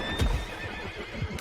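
A horse neighs loudly in the Red Dead Redemption 2 video game, a brief whinny mixed with hoof clatter and low rumbling thumps, close and alone with no talk.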